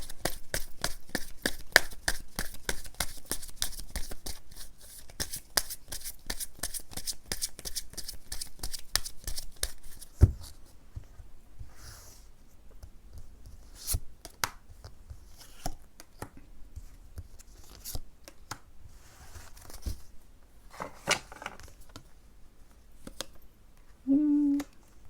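Tarot cards are shuffled in rapid, crisp riffles for about ten seconds, followed by sparse taps and slides as cards are drawn and laid down, close and quiet with no talking.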